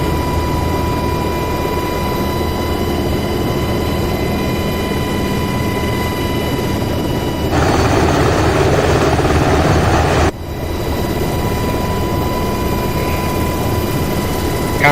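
Helicopter hovering in the DCS World flight simulator game, a constant loud engine and rotor drone with steady tonal whine that swells briefly for a few seconds before settling back, no talking.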